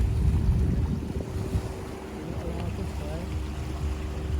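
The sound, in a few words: sea waves on a beach at Hon Tam Island, Vietnam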